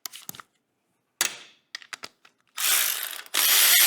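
A small hand ratchet clicks in short irregular bursts while working on the 455 engine of a 1971 Pontiac GTO, close and crisp, followed by longer stretches of rapid steady ratcheting.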